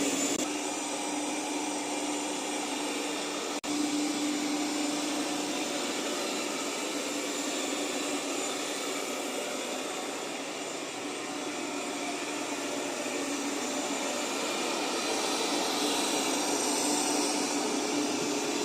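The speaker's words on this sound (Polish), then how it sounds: "Jak widać odkurzacz radzi sobie przy tej mocy 5000 PA z bałaganem bez problemu i raz dwa usuwa wszelkie nieczystości." An ILIFE V20 robot vacuum cleaner running at its 5000 Pa suction setting gives off a steady, loud, close whirring hum with an airy roar. The sound stays even and continuous throughout, with no voices.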